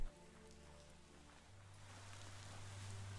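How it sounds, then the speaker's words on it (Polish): Steady rain hisses in a Biomutant game scene, a soft continuous wash of falling drops with a low hum underneath, fairly quiet and without speech. "Przynajmniej deszcz nie zacina mocno."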